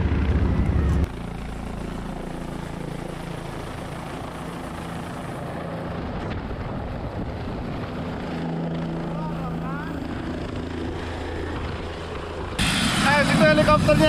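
Helicopter heard as a steady, broad engine and rotor drone on arrival at a helipad, holding level for most of the stretch before swelling louder near the end; no talk over it.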